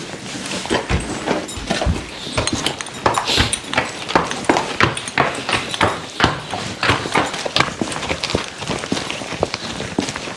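Hooves of a large draft horse strike the ground outdoors in a steady loud walking rhythm that runs the whole time, with a few scuffs and thumps between the footfalls.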